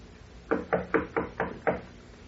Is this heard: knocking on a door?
yes